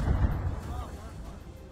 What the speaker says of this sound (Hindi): पीछे एक जोरदार विस्फोट हुआ